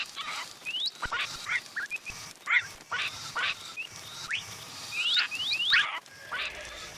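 Minecraft parrots chirp and squawk in quick, scattered bursts, imitating the Vex mob's whoosh, with overlapping high calls close and fairly loud throughout.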